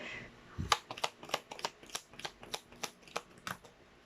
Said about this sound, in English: let's actually shuffle that again